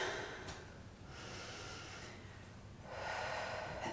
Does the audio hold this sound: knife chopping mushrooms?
no